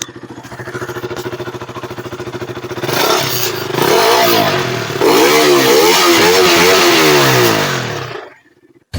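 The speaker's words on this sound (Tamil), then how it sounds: "இந்த பைக்கோட எக்ஸாஸ்ட் நோட் என்னன்னு எப்படி இருக்குன்னு கேளுங்க" A KTM RC 200 motorcycle, a 200 cc bike, idles with a steady pulsing exhaust note, then is revved repeatedly in loud rising and falling blips close by before the engine drops away and cuts at the end.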